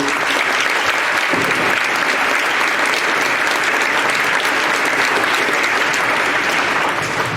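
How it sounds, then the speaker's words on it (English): An audience at a school coronation ceremony gives steady, sustained applause that fills the room. The clapping is dense and loud throughout and carries no distinct speech. "Can we please give her a round of applause, please?"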